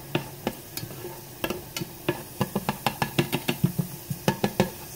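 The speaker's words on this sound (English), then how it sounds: "There is nothing better than the smell of garlic and onions sauteing in a pan." Garlic and onions sauté in a pan beside clams with tomatoes and pasta, as sharp tapping and scraping of a utensil against the pan falls into a quick, regular rhythm over a faint, soft sizzle.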